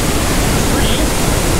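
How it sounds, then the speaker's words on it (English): A loud waterfall roars in the Pacific Northwest as a steady, dense broadband rush filling the whole stretch without pause, masking any voice. "this waterfall is super loud"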